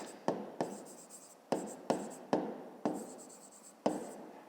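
Pen writing by hand on paper during a 5th-grade maths exercise: a sequence of separate strokes and taps, about nine close scratchy marks with brief pauses between them, quiet and with no voice.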